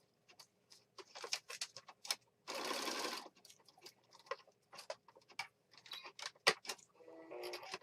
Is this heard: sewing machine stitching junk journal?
yes